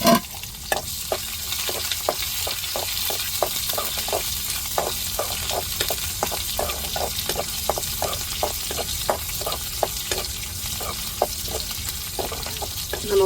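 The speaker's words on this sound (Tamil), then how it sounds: "இப்போ சின்ன வெங்காயம் தாளிக்கிறதுக்கு நறுக்கி வச்சுருக்கோம்" Small onions hit hot oil with fenugreek and mustard seeds for tempering, giving a steady, close sizzle dotted with frequent sharp crackles and pops, with no talk.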